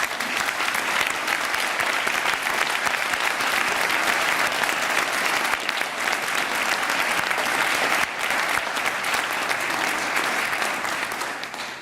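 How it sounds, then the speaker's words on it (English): An audience applauds eleven academic inductees at an honor society induction ceremony, dense sustained clapping from a large crowd that stays loud and even for the whole stretch, fading only slightly at the very end. "And let's give them a round of applause for their attainment."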